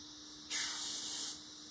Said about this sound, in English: And I'm gonna spray all of them.